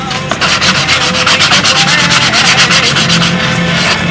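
Steady rhythmic scraping of 320-grit sandpaper rubbing back and forth over filler coats, close and continuous, with quick repeated strokes.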